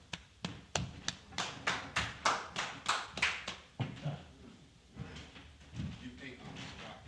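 Rhythmic group clapping closing a class, a dozen or so sharp, evenly spaced claps in near unison before breaking into looser, scattered claps with voices mixed in.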